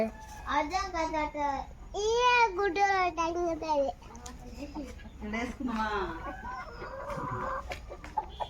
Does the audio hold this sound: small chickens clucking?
yes